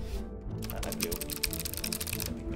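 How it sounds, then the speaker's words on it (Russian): Blue mechanical switches on a wireless keyboard clack in a fast, steady run of close, loud keystrokes, with a faint voice in the background. "Это синие механические переключатели, они капец громкие какие-то."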